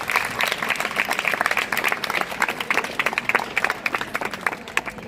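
Audience at a taluka-level school science exhibition applauding prize-winning students and teachers, steady dense clapping from a crowd sustained throughout, fairly loud and continuous.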